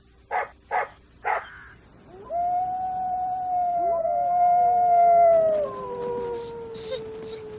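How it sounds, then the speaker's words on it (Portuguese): Wild dogs howl in a long drawn-out wavering chorus, several voices overlapping and rising, after three short sharp barks at the start, with faint high yips near the end. "Uivos e latidos de cães selvagens podem ser ouvidos a vários quilômetros de distância."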